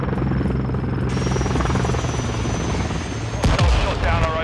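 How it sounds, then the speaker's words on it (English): Helicopter in Call of Duty, a loud continuous rotor thrum filling the whole stretch with game effects over it and a sharp blast near the end. "Helicopter down, helicopter down. Chopper down"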